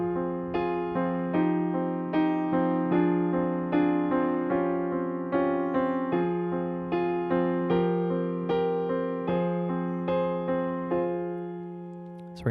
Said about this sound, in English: So this first phrase is the first one you heard, which sounds like this.